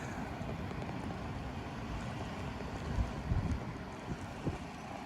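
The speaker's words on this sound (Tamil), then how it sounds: "காற்று அதுவும் பயங்கரமாக இருக்குது." Strong wind gusting during a snowstorm at minus four degrees, recorded from a fifth-floor home, a steady low rumbling roar with buffeting bursts on the microphone toward the end, no voices.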